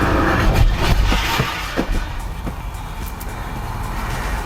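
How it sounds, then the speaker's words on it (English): A Honda Pilot SUV slowly accelerating while sitting on test rollers, a steady low engine and drivetrain hum with a few faint knocks, continuous and fairly close, no talk. "into drive, foot off the brake, slowly accelerate."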